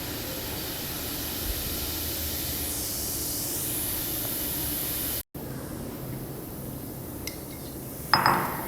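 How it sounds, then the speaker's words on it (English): Bicarbonate of soda fizzes in a sodium acetate solution with a steady, close hiss of bubbling, briefly interrupted, followed by a few light glassy clinks near the end. "We will see the solution will start to fizz."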